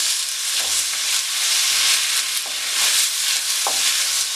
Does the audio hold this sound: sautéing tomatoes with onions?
yes